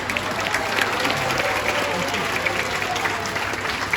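Steady applause from a crowd, a dense clapping that holds at an even level throughout.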